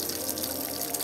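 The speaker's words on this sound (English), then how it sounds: "Do you know what this faucet is?" Water runs from a cold outdoor faucet at a lakeside spot, a steady close gushing hiss for about a second.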